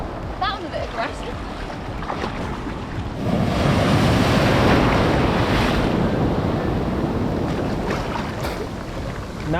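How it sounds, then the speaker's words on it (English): Choppy ocean waves washing and churning close by on Freedom Beach, Phuket, rising to a louder rush midway, with heavy wind buffeting the microphone and brief voices at the edges. "some of these waves are a bit choppy"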